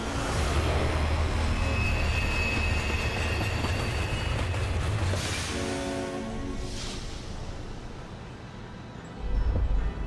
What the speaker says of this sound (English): Is it another train?